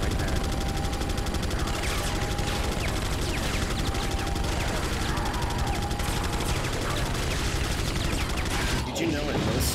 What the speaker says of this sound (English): They have a fucking Gatling gun right there.